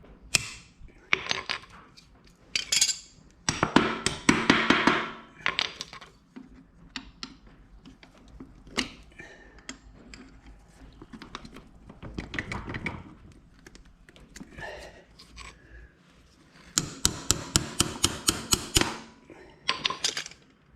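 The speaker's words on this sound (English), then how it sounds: "I'm going to grab a pliers and a hammer and get one of those cotter pins out" Metal tapping and clinking come from hammering a cotter pin out of a New Holland 256 rake, heard as irregular bursts of sharp rapid strikes separated by quieter pauses, fairly close but modest in level.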